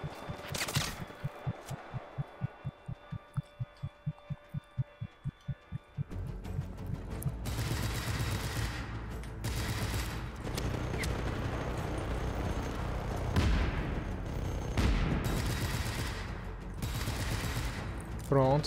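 A machine gun fires a steady, evenly spaced stream of rapid shots in the video game Just Cause 3, then gives way to louder, denser, chaotic combat noise, with a voice talking over parts of it.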